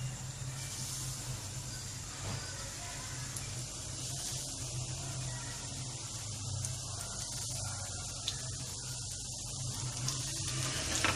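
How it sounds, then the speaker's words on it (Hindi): Donuts frying one by one in moderately hot oil over medium heat give a steady, even hiss that runs unbroken throughout, over a low constant hum, with no talking. "मैं आपको इनको फ्राई करके दिखाती हूँ"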